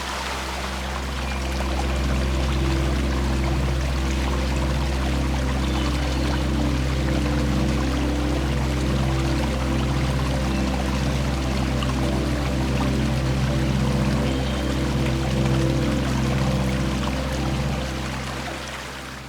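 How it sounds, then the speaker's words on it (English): Running water in an aviary at the Arizona-Sonora Desert Museum in Tucson pours and splashes steadily, a continuous close rushing stream with no talk. "in the middle of this beautiful aviary with running water"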